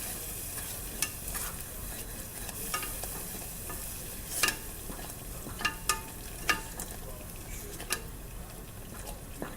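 A spoon stirring a thick mixture in a pot on the stove, a steady bubbling, scraping texture broken by sharp clinks against the pot, close and moderately loud, with no talking.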